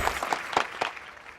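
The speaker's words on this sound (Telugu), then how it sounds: "చప్పట్లు కొడుతున్నాను" A few sharp hand claps from one person, about four distinct smacks spaced unevenly over a second, close and moderately loud, with no talking over them.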